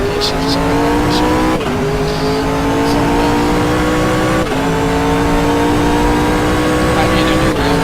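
A race car engine in the GTR24h racing video game revs steadily and repeatedly drops pitch as it downshifts, loud and continuous throughout, with a few faint tire squeals.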